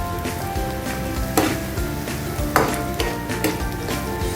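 Garlic and peanuts fry in a pan with a steady, dense sizzle, broken by a few sharp scrapes and clinks of stirring at irregular moments.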